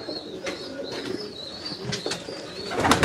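Pigeons in a loft holding about 300 birds, cooing steadily with bursts of wing flapping, close and fairly loud, with no talk.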